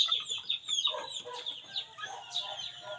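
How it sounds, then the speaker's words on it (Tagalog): Fighting roosters and hens cluck and call continuously in a noisy, busy chorus, moderately close with overlapping voices. "Ito na po yung ating mga panabong na manok."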